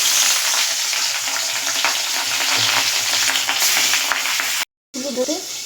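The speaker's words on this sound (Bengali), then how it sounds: "গরম হয়ে গেছে, মাছগুলো আমি একে একে ভেজে নিই।" Fish pieces coated in besan, sugar and turmeric frying in hot oil, a loud dense sizzle that holds steady, briefly cuts out, then returns with clattering handling.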